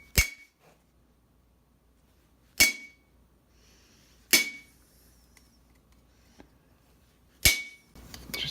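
A roping chisel is hammered onto steel armor helmet bottom plates, giving four sharp, ringing metallic strikes spaced a couple of seconds apart, close and loud against a quiet room, with faint clinks in between.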